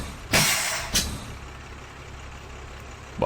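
Air parking brake on a 1993 Blue Bird B700 school bus in the Rigs of Rods driving game: a loud sharp hiss of released air, then a second shorter burst, with a low idle hum beneath.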